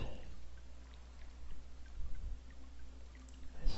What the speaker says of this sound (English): It's a little water effect.